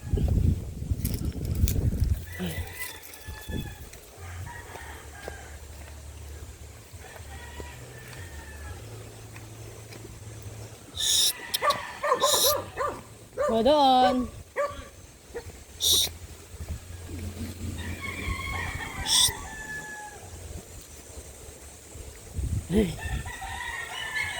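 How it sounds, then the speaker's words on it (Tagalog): A dog barks in a few short bursts outdoors in a rural Filipino setting, mixed with roosters crowing and a low steady hum, with occasional voices nearby. "May aso pa dito."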